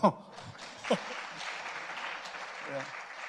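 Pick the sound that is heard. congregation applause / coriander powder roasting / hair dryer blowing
congregation applause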